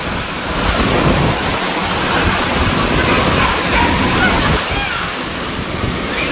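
A sudden heavy rain storm with strong wind makes a dense, loud, continuous rushing roar of gusts and pouring rain that swells and dips, steady throughout the clip.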